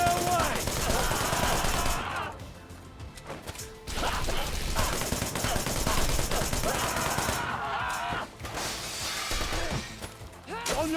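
Dense bursts of gunfire and crashing impacts from the video game Wanted: Dead, loud and sustained through most of the stretch with a couple of brief lulls, under game audio.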